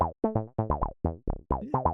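Mi-03 software emulation of a Roland TB-303 playing a bassline with accented notes: a run of short, punchy synth notes with gaps between some, several sounding louder and brighter, with no voices.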